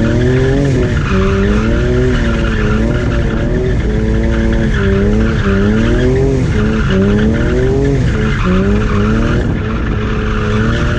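BMW E46 M3 with traction control off drifting around a street roundabout, loud engine revving under sustained tire squeal and skidding that rises and falls through the slide, close and continuous with no talk.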